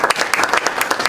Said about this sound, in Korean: 앞에 강의해 주신 그 강사님께 다시 한번 박수 부탁드리겠습니다.